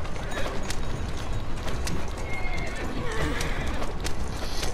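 A horse in Assassin's Creed Syndicate whinnies loudly amid clattering hooves and rattling carriage mechanisms, all dense and continuous with no speech.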